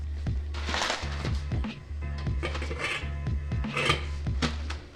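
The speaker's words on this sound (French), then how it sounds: "je vais sortir une petite poêle anti-adhésif" A small non-stick frying pan is pulled out and handled, giving repeated rasping, scraping metallic clatter over a steady low hum in a home kitchen.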